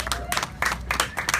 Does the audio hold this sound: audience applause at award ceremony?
yes